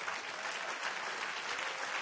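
A church congregation applauds during a sermon, a soft, distant, uniform roar of many clapping hands with no gaps.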